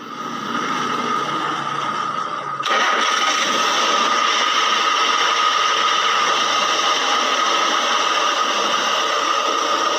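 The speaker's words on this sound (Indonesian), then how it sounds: "Lalu kita hidupkan lagi mesin." A Daihatsu Gran Max car engine, restarted after its radiator was refilled, runs steadily with a loud, even hum and whooshing noise that jumps up a step in level partway through and holds there, with no voices.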